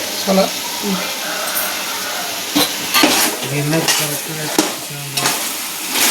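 Chicken pieces sizzle in oil with turmeric while cooking a chicken majboos biryani. A steady fry is broken by scraping stirs and clinks against the pan, and a person talks over it.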